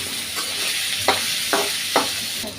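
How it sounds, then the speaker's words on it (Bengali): Jackfruit seeds and green chilies sizzle in a hot pan for a pointed gourd and potato mash, with a steady frying hiss broken by three or four crisp scrapes of a spoon stirring through them. "তো এখন নেড়ে চেড়ে নিচ্ছি ভালো করে,"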